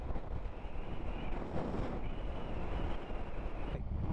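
Wind turbulence buffets a rider on a Kawasaki Versys-X 300 motorcycle with a cut-down stock windscreen, a steady loud rushing roar with rolling pulses of buffeting.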